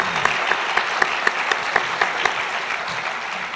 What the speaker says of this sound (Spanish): recibir con un fuerte aplauso, ¿verdad?, al doctor Hugo Semmelman Merino con esta conferencia magistral.